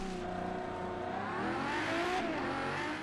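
A car engine in the racing game Forza Horizon 3, a moderately loud revving hum that rises and shifts in pitch over three seconds with no talk.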